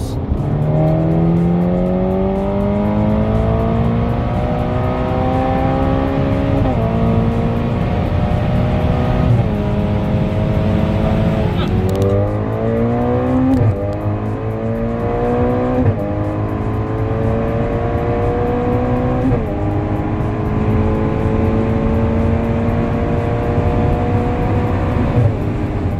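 A tuned Ferrari Portofino with a Stage 2 turbo upgrade and IPE downpipes accelerates hard on the autobahn, its engine note climbing through several gears with brief dips at each shift. The sound is loud and sustained from inside the car.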